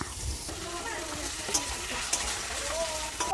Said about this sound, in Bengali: মাছগুলো ভাজা হয়ে গেছে, ওই তেলের মধ্যে ওলকপিটা ভেজে নেব।